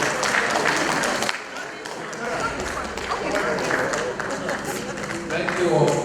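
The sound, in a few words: audience clapping hands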